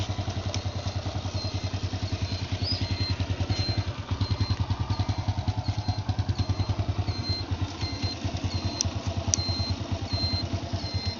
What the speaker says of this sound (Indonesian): mesinnya halus sekali bosku, nggak ada ngebul, halus, nggak ada ngur